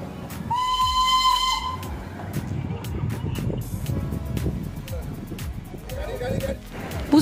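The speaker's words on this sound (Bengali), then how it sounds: "অসাধারণ টয় ট্রেন দেখলে, টয় ট্রেনের দর্শন পেয়ে গেছি ঢুকতেই, সেটা তুলে দিলাম" The Darjeeling toy train at Batasia Loop sounds a loud, shrill whistle, then keeps rumbling and clattering along the track with hissing steam, heard close amid crowd noise and talk.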